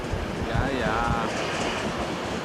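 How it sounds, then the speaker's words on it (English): A train rumbles along the tracks with a steady low roar and rhythmic rattling, a faint squeal rising briefly in the middle. "No, Cece, I gotta get the sensation of train travel."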